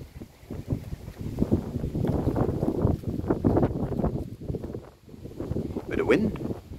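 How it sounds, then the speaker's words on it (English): Wind blows outdoors in gusty, uneven bursts that buffet the microphone, rising and falling over several seconds while people talk through it. "Wind."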